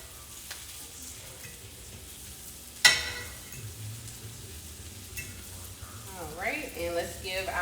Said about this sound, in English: I'll flip the sausage one more time because I like for it to be well done.